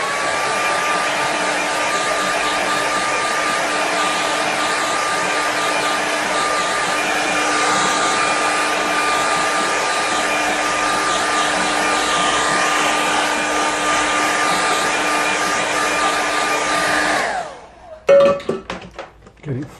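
A hair dryer blows across a wet watercolour painting with a steady, loud whirring drone for about seventeen seconds. It then cuts off, and a few light clinks and knocks follow.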